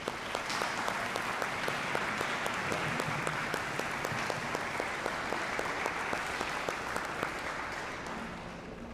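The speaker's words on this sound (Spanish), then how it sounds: "Un grande aplauso por todos" A congregation in a Houston church applauds the priests during a wedding Mass, a dense, sustained clapping that holds steady and eases slightly toward the end.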